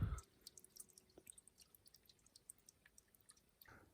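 Water drips from a makeshift spout fashioned out of leaves on a forest trail in Washington, a steady run of small, quiet, irregular drops close by, faint over soft outdoor background.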